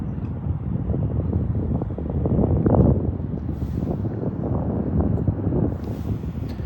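Wind buffets the microphone at Duluth harbor, Minnesota, on a cold night, making a steady low rumble that swells into a stronger gust midway.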